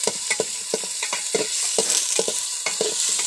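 Food fries in a pan at close range: a steady sizzle is broken by frequent sharp scrapes and clinks as it is stirred.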